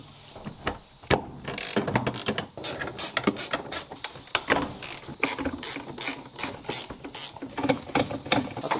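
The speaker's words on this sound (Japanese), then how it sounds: "マスターバッグ外すのにペダルの付け根にあるピン抜いてナット緩めて外していきます" A ratchet wrench clicks rapidly while loosening nuts at the pedal base of a Mazda RX-7 FD3S during a strip-down restoration, close and loud, in quick repeated bursts of ratcheting with short pauses.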